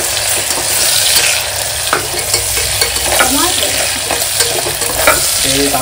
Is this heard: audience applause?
no